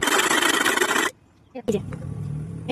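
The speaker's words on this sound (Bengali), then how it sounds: "আমি ক্যানটাকে ঘষে ঘষে এই যে এটাকে গোল শেপে কেটে নিচ্ছি" The rim of an energy drink can is rubbed hard against a rough surface to cut it round, giving a loud, harsh rasping scrape close by, a brief pause, then a second, softer grinding burst.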